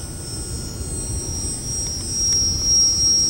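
A high, thin jet whine hangs over steady background noise, swelling slightly as a radio-controlled model jet passes low over grass.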